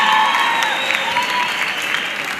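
Audience applause for panel speakers at a youth empowerment week event in the Vaal: steady, fairly loud clapping from a crowd throughout a short stretch.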